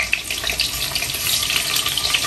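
Tofu pieces fry in a pan of hot oil, a steady dense sizzle and crackle that runs close and fairly loud for the whole stretch with no voices over it.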